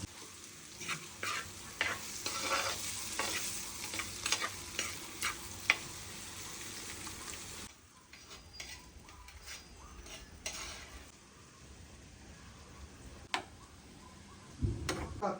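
Clams (kakka) fry in a pan for a clam roast, with a soft sizzle under repeated scraping and clinking stirs from a spoon, close and fairly quiet, then the sizzle thins partway through.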